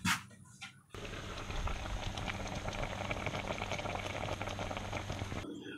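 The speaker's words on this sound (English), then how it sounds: "now that we brought the vegetables and everything to a boil" Pot of tomato and leek soup vegetables at a steady rolling boil, a dense continuous bubbling and hiss that starts abruptly after a brief quiet moment and holds loud and close until near the end.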